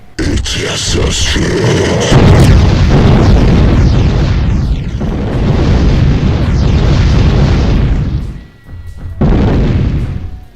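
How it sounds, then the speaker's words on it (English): A Mancubus variant in a Doom mod fires volleys of meteor fireballs, making loud, dense rumbling blasts that pile up almost continuously, with one brief lull before the barrage resumes. "The volley spreads of meteor fireballs are higher in number"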